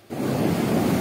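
Sea waves at Ponnani beach wash in as a loud, continuous roar of surf mixed with gusting wind buffeting the microphone.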